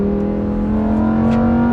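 Lamborghini Huracan EVO engine revving under load, a loud, steady rising drone that climbs slowly in pitch as the revs build, with no pause.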